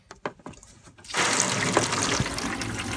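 Water gushes steadily from the shower tap inside a 1997 Autosleeper Legend motorhome on a Transit base, starting abruptly after a few faint knocks and then running loud and close without pause.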